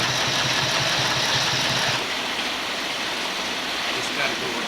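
Chinese-made sewing machine stitching a zipper into a Davis canvas tent, a continuous loud mechanical hum and rattle that steadies partway through.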